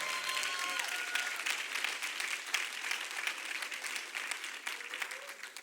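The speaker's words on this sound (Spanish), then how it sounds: "Le pedimos a toda la audiencia que me le den un fuerte aplauso a los invitados" Studio audience giving the guests a strong round of applause, steady dense clapping throughout with a faint voice or tone briefly audible early on.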